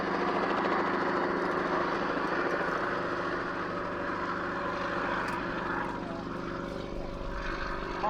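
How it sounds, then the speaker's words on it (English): At an air day, a 550-horsepower nine-cylinder air-cooled Alvis Leonides radial engine drones loudly and steadily, with a dense propeller-like roar, while a voice talks over it. "oh, the noise of the 9-cylinder air-cooled Alvis Leonides radial engine"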